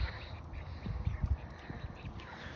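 Ducks quack in the mud, a run of low, throaty calls in irregular bursts, fairly close over a murky background with no talking.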